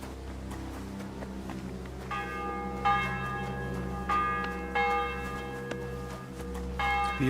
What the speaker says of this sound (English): The 11th toll of the bell.